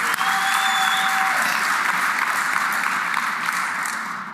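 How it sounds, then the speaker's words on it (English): Crowd at a political party congress in Mpumalanga breaks into loud, sustained applause, a dense wash of clapping that fades slightly toward the end. "Let's give ourselves a round of applause."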